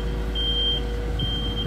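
An asphalt road roller paving a street beeps while reversing: two steady electronic tones separated by a short gap, over a constant low engine drone.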